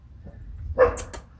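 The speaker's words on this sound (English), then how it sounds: "There's a dog walking by in the background." A dog in the background during an eye-contact training session, a single short bark or yip partway through, moderately close, followed by a couple of brief sharp noises, with no talking.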